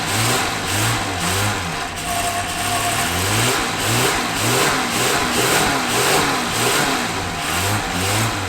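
A 1978 Jaguar XJ6, left standing for 24 years, runs loud and close with its throttle held down, a steady rough engine note pulsing rhythmically throughout with no talk over it.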